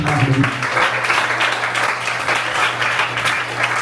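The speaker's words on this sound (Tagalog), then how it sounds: "Mas maganda palakpak para sa Diyos." A church congregation claps during a Sunday worship service, producing steady, dense applause from many hands, with a low hum and some voices beneath it.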